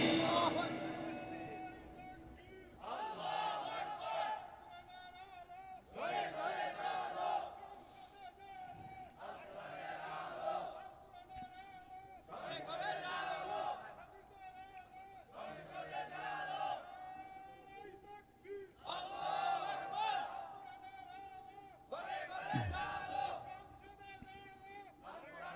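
A large crowd at an outdoor Islamic sermon gathering shouts the takbir chant again and again, loud massed voices rising in rhythmic waves roughly every few seconds across the whole stretch.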